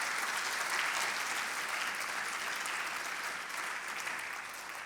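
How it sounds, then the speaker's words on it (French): An audience at the HERA Awards 2024 ceremony applauds, a steady, dense round of clapping from a large crowd that holds even and fairly loud, fading slightly toward the end, with no talk over it. "On peut l'applaudir."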